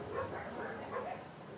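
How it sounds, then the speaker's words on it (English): Dogs barking outdoors in the distance, a few soft yips and woofs spread over a low, steady background. "And the dogs are barking at something out there."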